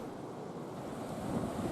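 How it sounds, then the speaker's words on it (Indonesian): Large ocean waves surge onto the beach along the Merauke coast, a steady broadband roar of surf with wind noise, swelling slightly louder toward the end and heard without voices. "saat ombak besar melanda pesisir pantai"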